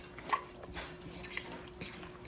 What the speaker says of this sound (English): All right, let's stir this together